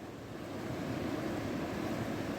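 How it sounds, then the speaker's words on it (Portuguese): Big ocean waves break on a beach in a steady, roaring wash of surf that builds slightly and holds loud throughout, with some wind noise on the microphone and no voices. "tá gigante as ondas"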